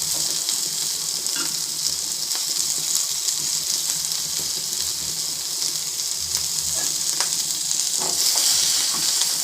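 Curry leaves, fennel seeds, onion, tomato, garlic, pepper and cumin sauté in a pan with a constant close hiss and crackle, overlaid by occasional faint scrapes and ticks, and no talking.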